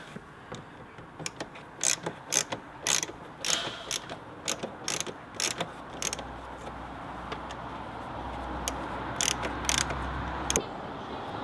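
A Phillips screwdriver undoes a screw on a Mountune air box in a Ford Fiesta ST, giving close, irregular ratcheting clicks and sharp metallic ticks over a low steady background hum.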